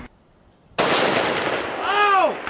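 A single rifle shot at an outdoor shooting range cracks loudly and close, its boom rolling off in a long fading echo, followed by a brief voice.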